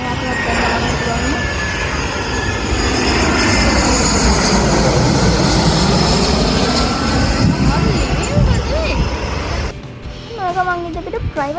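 A Sri Lankan Airlines jet near Katunayake airport roars loudly overhead, its engine noise swelling and sweeping in pitch before fading, with a voice talking briefly near the end.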